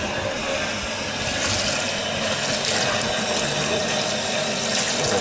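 Tap water runs steadily into a sink as soot-blackened fireplace glass is rinsed under it, making a loud, continuous splashing hiss with no talking.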